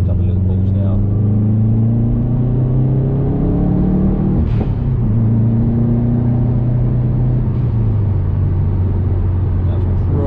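A Subaru Impreza engine revs up through several acceleration pulls at roughly half throttle, its loud steady drone rising and falling in pitch with a brief dip midway, heard from inside the car.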